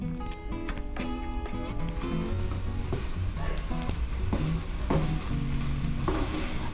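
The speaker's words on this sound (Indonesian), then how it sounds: "Kita aduk-aduk aja sambil ditekan dikit-dikit aja." Strawberries stirred and pressed in a pot while cooking down for a strawberry milk latte, giving a steady close wet sizzling and stirring texture throughout with clinks of the utensil.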